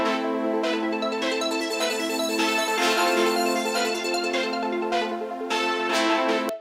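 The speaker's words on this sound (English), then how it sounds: "Then of course we have the synthesizers, which are really important to create that typical 80s sound." An 80s-style synthesizer holds bright, sustained chords that shift every second or so, dense and steady at a moderate level with no talking.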